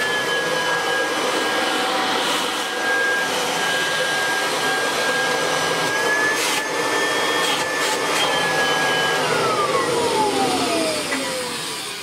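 A 1989 Kirby Legend 2 vacuum cleaner runs steadily nearby with a loud, constant motor whine and airflow roar, its pitch dipping toward the end, with no talking.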